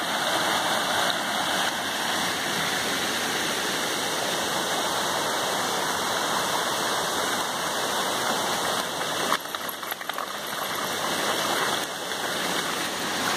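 Creek water rushes and splashes steadily over rocks, a loud, continuous broadband wash that holds throughout with brief surges, heard close up with no talk over it.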